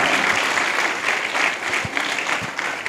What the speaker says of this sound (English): Let us give a big applause.